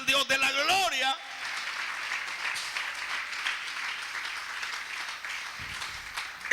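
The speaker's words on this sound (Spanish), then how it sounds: "Vamos a regalarle una ofrenda de palmas al Dios de la gloria." A church congregation breaks into sustained applause after a preacher's voice ends, the dense clapping continuing steadily at moderate loudness for several seconds.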